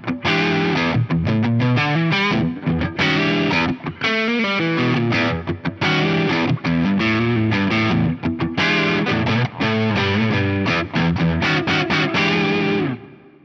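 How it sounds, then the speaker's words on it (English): Overdriven electric guitar through a Sound Tank overdrive pedal, a Tube Screamer-style design, played as continuous distorted riffs and chords with sustained notes and a ringing final chord, loud and alone. "Let's hear the Sound Tank."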